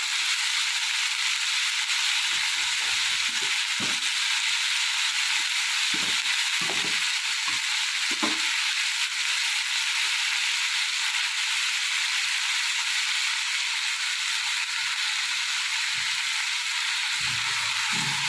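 Pieces of ivy gourd fry in a pan with salt, giving a constant bright sizzle and hiss close by, broken by a few soft clatters and scrapes as the pieces are stirred.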